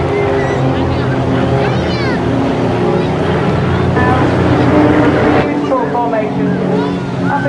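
Formation display jets roar overhead at a seaside airshow in Teignmouth, a loud steady engine rush with shifting pitch that swells and fades, under continuous commentary over a PA.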